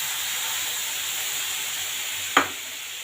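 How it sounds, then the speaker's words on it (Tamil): White sugar in a hot pan sizzles and hisses steadily as about two spoons of water are poured in to melt it toward caramel, with one brief sharper spatter near the end and no talk. "சர்க்கரை போட்டுட்டு ஒரு 2 ஸ்பூன் அளவுக்கு தண்ணி ஊற்றிக்கலாம்."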